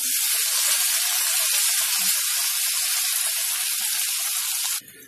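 Diced potatoes for aloo bhujia sizzle steadily in hot oil on a medium flame, a dense, close frying hiss that carries on evenly and then drops away abruptly near the end.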